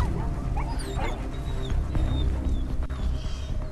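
A dog barking and yipping in the video game Beyond: Two Souls, several sharp repeated barks with whimpering tones over a background of game ambience.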